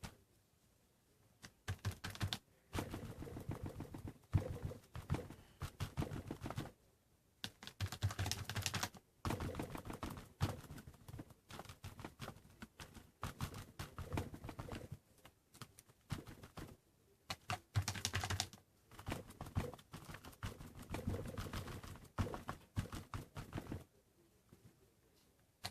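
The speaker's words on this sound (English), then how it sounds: "I'm just going to pounce black paint through here" Black paint is pounced through a stencil with a sponge or brush, making rapid soft dabbing taps in bursts with brief pauses, close and fairly quiet.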